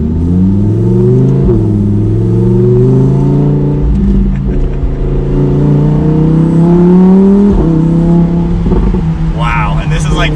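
Lamborghini Huracan EVO Spider V10 exhaust in Corsa mode with windows up, a loud continuous engine note climbing and dropping in pitch through gears while driving, with talk over it and a brief rev flare near the end.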